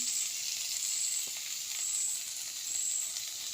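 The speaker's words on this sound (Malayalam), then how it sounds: "കണ്ടില്ലേ, ഉള്ളിയും തക്കാളി വാട്ടുക കേട്ടോ." Onion and tomato sautéing in a pan give a steady, fairly quiet sizzle with a bright crackling hiss that holds evenly throughout, with no voices.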